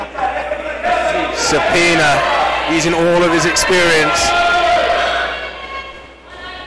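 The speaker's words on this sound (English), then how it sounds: "The crowd getting behind him." Kickboxing match crowd roaring and cheering steadily in an arena, a broad wash of noise rising and holding under a loud commentator's voice.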